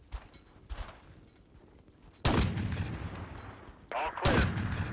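Two heavy airburst grenade launcher shots in a free military video game boom out loud and close, each followed by a rolling blast tail, after a quieter stretch of faint thuds and footsteps.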